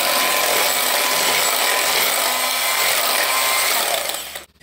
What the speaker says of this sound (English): Then you're gonna put it in a mixer, mix it until it's